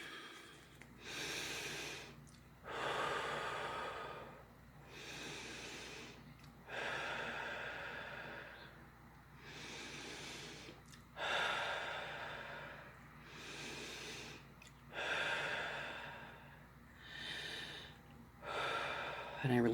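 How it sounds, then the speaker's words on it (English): Slow, deep breaths are drawn in and let out close to the listener during a calm meditation. About eight full breaths come at an even, unhurried pace, each a soft airy rush. "So, take a few deep breaths."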